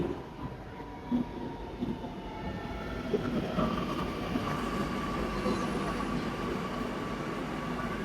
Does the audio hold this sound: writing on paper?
no